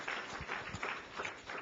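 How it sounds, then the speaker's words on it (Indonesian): Church congregation applauding during a sermon, a dense steady clatter of many hands filling the room for the whole moment, with no voices breaking through. "Berikan tepuk tangan."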